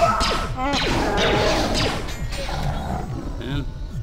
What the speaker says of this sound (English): you just shoot that toilet